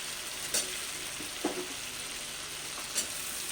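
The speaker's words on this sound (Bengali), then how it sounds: "যে টমেটো দিয়ে ভালো করে এবার কষতে হবে এই মশলার মধ্যে" Tomato fries in a spice batter in a pan with a steady, close sizzling hiss, broken by a few soft stirring scrapes.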